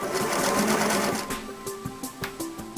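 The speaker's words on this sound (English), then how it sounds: "Make at least 4 stitches ending on the left side when you're going to go up the buttonhole" A Singer sewing machine stitches a buttonhole, a close, rapid mechanical whir and chatter with fast rhythmic needle beats, steady at first and then in short pulsing bursts as the stitches finish, with no talking.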